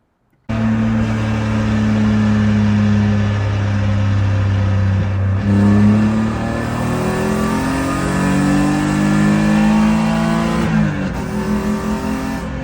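BMW E46 with MS45 engine pulling hard at wide open throttle, a loud close engine note climbing steadily in pitch through a gear, then dropping at a shift and climbing again.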